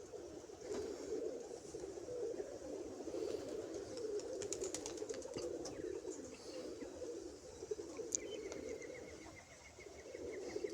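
Low, soft cooing of pigeons runs almost continuously, fairly close, with occasional faint chirps and rustles in a quiet outdoor setting.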